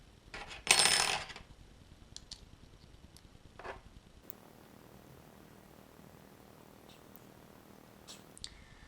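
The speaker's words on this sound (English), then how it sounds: "you just screw or drop the bolt through the cap" A bolt dropped through the hole of a GoPro grip cap lands with one sharp, bright metallic clink up close, followed by a few faint small taps and handling noises.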